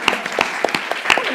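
Audience applause at a talk on brand entrepreneurship, a short burst of scattered, uneven hand claps that is fairly close, with a voice mixed in.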